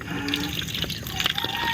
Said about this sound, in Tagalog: Yan na po yung tubig guys.